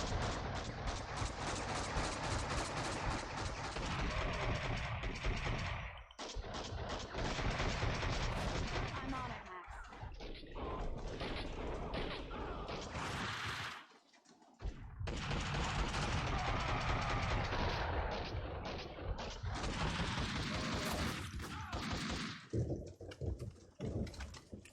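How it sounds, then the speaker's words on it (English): Gunfire in the Max Payne 2 video game, long loud bursts of rapid shooting with two short pauses, dense and close, mixed with game effects and a voice. "Oh, who's shooting at me?"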